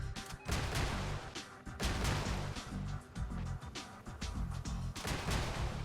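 Cicada rocket launcher firing in a video game, a rapid series of loud explosive bursts and booming impacts in quick succession, with short gaps between volleys.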